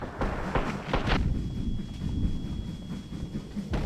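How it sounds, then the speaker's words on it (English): A train in the VR game Hot Dogs, Horseshoes & Hand Grenades rumbles past with a few sharp clacking knocks near the start and a continuous low roar after, with no talking. "The Sosigs can actually interact with the train."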